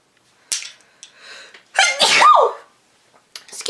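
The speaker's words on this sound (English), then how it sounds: "I'm gonna sneeze." A woman gives a loud close sneeze after a few sharp breaths and short build-up sounds, followed by another quick intake of breath.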